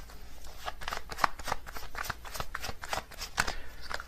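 Tarot cards are shuffled in a steady run of crisp riffling flutters and soft slaps, close and clear, with no talk over them.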